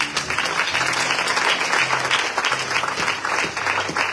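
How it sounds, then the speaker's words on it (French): Church congregation applauding the Lord at a French-speaking Christian service, steady dense clapping from many people that fills the room and carries on throughout without a break. "Est-ce que tu peux acclamer le Seigneur?"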